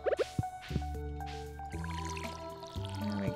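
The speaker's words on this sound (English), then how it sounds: "Let's water all of our grapes." Watering crops with a watering can in the farming video game Stardew Valley: a few quick wet splashing drips at the start, then set against steady game background music.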